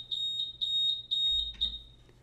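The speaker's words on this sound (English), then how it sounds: "the horn starts to sound and the light flashes" A high-pitched electronic alarm beeps in short repeated bursts, four quick pulses, with a faint low hum beneath.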